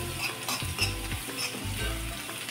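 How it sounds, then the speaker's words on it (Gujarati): Asafoetida, ginger, chili and garlic frying in hot oil with a close, continuous sizzle and light stirring scrapes. "હવે આપણે સહેજ હિંગ નાખીશું અને આદુ મરચાં જે લસણ રાખેલું હતું તે નાખી દઈશું।"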